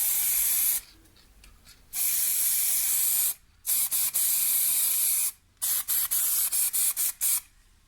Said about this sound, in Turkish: bunları siyah boya ile yani siyah sprey boya ile boyayacağız